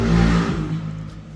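An old car engine running and revving, a strong low rumble that swells early, then settles into a steadier idle-like hum with some whir, close and fairly loud, with no voices.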